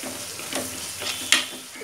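Masala spice powder frying in a pan for a mutton head curry, a close, steady sizzle with soft stirring scrapes and one sharper hiss near the end.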